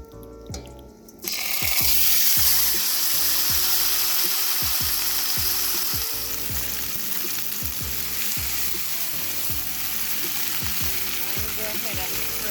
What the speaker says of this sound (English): So guys, I'm going to be adding my beef to the pot right now.